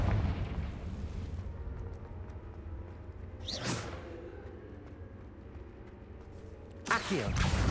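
Confringo fire spells detonate in Hogwarts Legacy gameplay, with two sharp whooshing explosive bursts a few seconds apart over a low rumbling game background.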